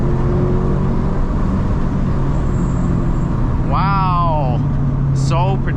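Toyota GR86 engine revving under throttle, heard from inside the car: two quick rising revs cut through steady road rumble, with people talking over the drive.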